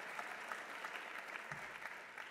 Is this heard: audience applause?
yes